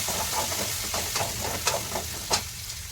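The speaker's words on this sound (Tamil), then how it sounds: "தூள் இதெல்லாம் வந்து போட்டு நல்லா வதக்கிக்கலாம்" Small onions and spice powder sizzle and fry in a pan with a steady hiss, punctuated by occasional scraping stirs, close up and without speech.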